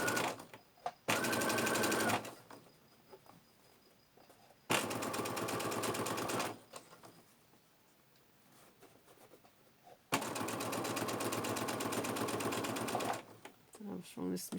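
A sewing machine stitches an inside pocket onto a bag, running in three loud steady bursts of rapid needle chatter separated by quieter pauses with handling noise.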